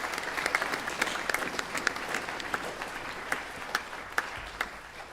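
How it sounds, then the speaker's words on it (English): An audience at a high school band concert applauds steadily, with many sharp individual claps standing out from a dense, moderately distant wash of clapping that fades slightly toward the end. "let's have a round of applause for our music staff here at Canfield"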